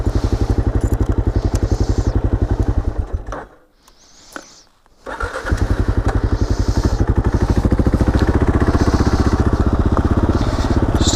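A Kawasaki KLR motorcycle roars loudly and steadily, heard up close from a camera mounted at the front tire. The engine drops away briefly for about a second, then resumes its rapid pulsing drone.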